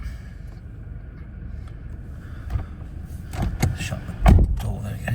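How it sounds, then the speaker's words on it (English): The door of a Toyota Hilux 2.8 D-4D Invincible X pickup, an airtight door that needs a firm pull, is shut from inside the cab, giving a few quiet rustles, then sharp thuds and a heavy closing clunk near the end. "Shut the door, there we go."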